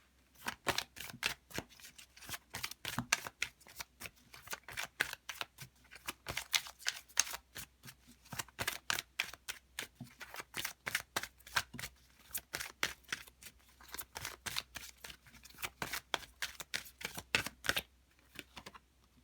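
Oracle cards are handled and shuffled in a steady run of crisp, close riffling and slapping bursts that repeat for nearly twenty seconds with brief pauses between.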